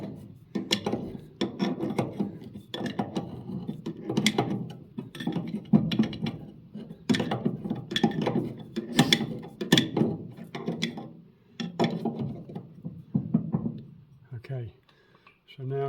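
A spanner is tightened on a Massey Ferguson 780 Special combine harvester. Close, rhythmic rasping strokes repeat steadily with short pauses between them, like a ratcheting tool working metal.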